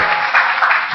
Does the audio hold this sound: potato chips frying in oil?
no